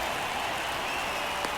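Crowd cheering in a baseball video game, a steady broad wash of applause and cheers held at an even level throughout, with no talk over it.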